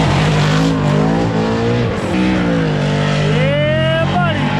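Drift cars take a practice lap before the finals at Formula Drift Orlando, loud engines roaring and revving with rising and falling pitch throughout, close and continuous.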